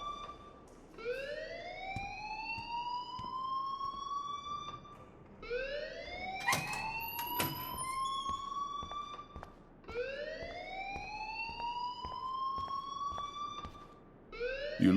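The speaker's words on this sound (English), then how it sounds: "please turn off that alarm since that's your job" A fire alarm in the game Life is Strange wails in rising, repeating sweeps, three long cycles in a row, loud and close with some clatter between them and no talk.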